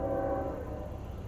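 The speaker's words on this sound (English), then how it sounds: "here goes the freight train" A CSX northbound mixed freight train passes with a steady low rumble and rolling rail noise, a sustained tonal hum riding over it, continuous and fairly loud without voices.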